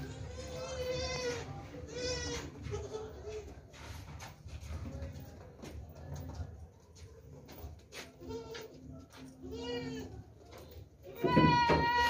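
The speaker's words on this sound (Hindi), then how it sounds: "तीनों बकरे हैं, बहुत ही ज़बरदस्त बकरा है भाई।" Goats and young bucks bleat repeatedly at a livestock sale ahead of Eid sacrifice, several loud, wavering calls spread across the scene with background chatter and outdoor noise between them.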